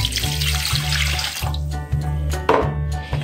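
Hot tap water is poured into a bread maker pan, making a steady, continuous rush of flowing water close by with a low hum beneath it and no talking.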